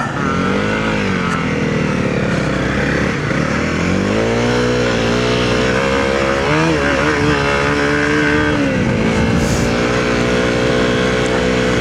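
A Honda CRF250L motorcycle engine drones loudly while riding, rising and falling in pitch through gear changes and throttle shifts, with wind rumble underneath.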